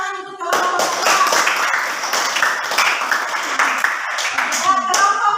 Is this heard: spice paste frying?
no